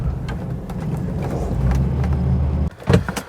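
A 1970s Ford Granada Mk1 drives steadily, a low engine drone with road rumble close to the microphone, cut off near the end by a few brief knocks and bumps.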